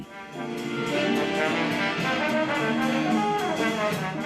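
Jazz from a big band of the US Army: a steady, full ensemble with sustained horn chords and a regular beat, loud and continuous, with no speech.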